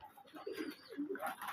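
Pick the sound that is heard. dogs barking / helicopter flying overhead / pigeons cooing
pigeons cooing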